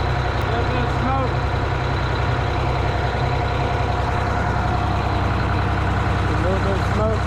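A 1977 Eagle car engine with exhaust leaks idles steadily close by, a continuous low rumble with a faint rough, ticking edge and no pauses.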